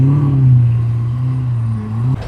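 A hypercar idles nearby at a car meet, giving a deep, loud, steady rumble with a slight rise and fall in pitch and a faint clunk near the end.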